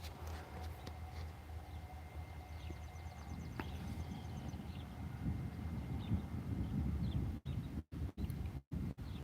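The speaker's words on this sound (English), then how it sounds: "there's some nice rolling thunder" Deep, low rumbling thunder rolls and swells in the distance, growing stronger midway, with steady background hiss and wind.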